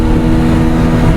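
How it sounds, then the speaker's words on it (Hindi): A Bajaj Pulsar 125 motorcycle runs hard on a highway during a top-speed run, its engine a loud, steady, close drone over rushing wind. "Since we are in the highway, अभी हम करते हैं एक छोटा सा टॉप स्पीड टेस्ट, जहाँ पे मैं ट्राई करता हूँ बाइक को भगाने को ट्राई करता हूँ।"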